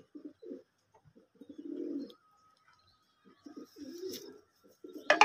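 Madras pigeons of an old line coo in low, throaty bursts, several repeated phrases with short pauses between them, close and clear with no talking.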